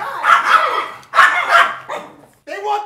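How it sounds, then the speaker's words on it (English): A dog barks in two loud, close bursts with a short yip after them, with some voices mixed in. "Whoa, the dog."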